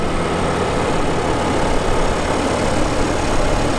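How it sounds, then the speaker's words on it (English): A Cummins diesel in a 2019 Ram 3500 Limited Crew Cab idles smoothly and quietly, a steady low rumble with even, unbroken texture heard up close. "this Cummins engine is probably the most quiet Cummins I've ever heard"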